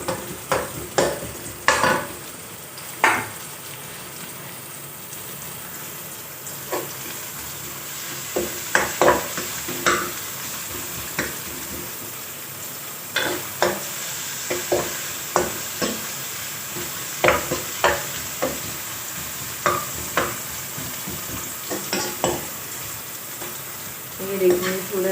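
Onions softening and garlic going into a pan for moong dal with husks, frying with a soft sizzle under repeated scraping stir strokes, close and irregular, with faint talk in the background.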